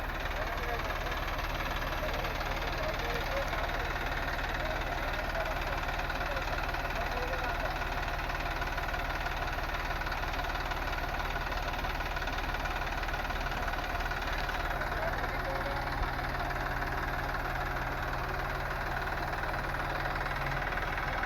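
A Massey Ferguson 246 Dynatrack tractor, 46 HP with four-wheel drive, runs at a steady idle with a continuous knocking diesel drone close by, unchanged for over twenty seconds.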